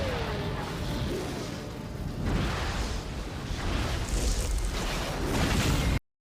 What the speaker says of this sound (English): Internal explosions all over.